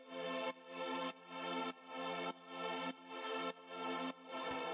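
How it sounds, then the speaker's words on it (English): A synthesized choir pad made from two sustained notes, droning in long swelling chords that restart roughly every half second, soft and distant with a smooth, airy tone and no voices. "the first sound I have here is this choir sound"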